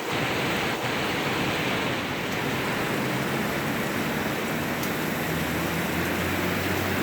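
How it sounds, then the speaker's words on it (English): A downpour of big, heavy raindrops in Bogota makes a steady, broad wash of hissing noise, constant in level and close by, with no one speaking. "The drops are so heavy. Big drops."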